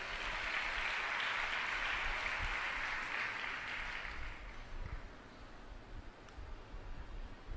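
A church congregation claps together during a Telugu sermon at Krupa Ministries in Guntur, a dense, steady burst of applause that stays loud for several seconds, then thins and fades toward the end.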